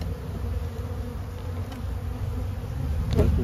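Honeybees buzzing steadily in an opened single brood chamber hive during an inspection, a close, fairly quiet drone with a slight rise near the end.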